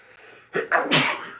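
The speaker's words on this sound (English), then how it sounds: "I'm about to sneeze, guys." A loud, close sneeze with a sharp intake of breath followed by a forceful burst, alone with no talking.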